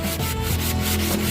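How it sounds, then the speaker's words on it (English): Light hand sanding along the edges of a wooden board, a short run of steady back-and-forth rasping strokes, close and clear with no talk. "just some light sanding, and that should do just fine."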